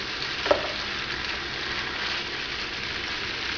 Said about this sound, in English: Just toss it and stir it and toss it.